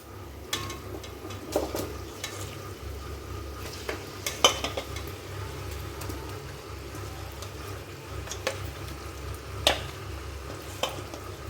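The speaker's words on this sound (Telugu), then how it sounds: "ఇప్పుడు నీట్గా వాష్ చేసి ఉంచుకున్న చికెన్ని ఆనియన్లో వేసుకుని కలుపుకుందాం" Chicken pieces stirred into frying onions in a pot for a country-chicken curry, a steady sizzle with scraping spoon strokes and occasional clinks of utensil against the pan, close and continuous without talk.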